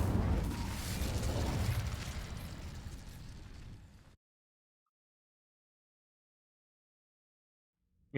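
A fire spell cast in a Harry Potter video game, a loud whooshing, roaring burst of flame that rumbles for about four seconds and then cuts to silence.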